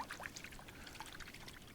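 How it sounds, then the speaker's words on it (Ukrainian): A spinning rod with iced-up guide rings is dipped into cold river water, giving a faint, close trickling and gurgling with a few small splashy bubbles, all alone without talk. "Просто беру отак вудлище на кілька секунд в воду"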